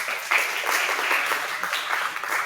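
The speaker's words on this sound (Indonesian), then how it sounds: "Tepuk tangan untuk Kelvin." Applause for a student in a classroom lesson on car starter systems, a short spell of moderate, fairly even clapping from a small group, with faint murmuring underneath.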